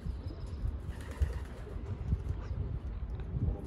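Soft low cooing from an exhausted racing pigeon just back from a 364 km race, repeated throaty coos with a few faint wing flutters, fairly quiet and close, no talking.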